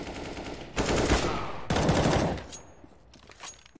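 Gunfire in a competitive online shooter game: two loud bursts of rapid automatic fire, followed by quieter, scattered shots.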